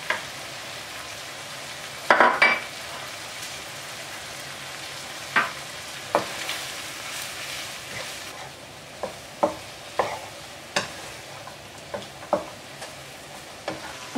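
Spices being stirred as they fry in a pan for Pakistani shrimp curry, a steady soft sizzle broken by a run of sharp scraping clicks and taps from the spoon against the pan, alone without talk.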